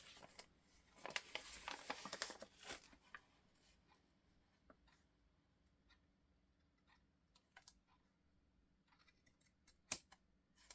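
Scissors trimming the edges of vintage linen for a journal, a run of quiet crisp snips clustered early, then sparse faint cuts and one sharp click near the end, close and soft.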